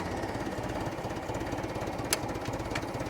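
A Case 580CK backhoe engine runs at a steady, rumbling idle with an even mechanical throb, close by, with a couple of sharp clicks near the end.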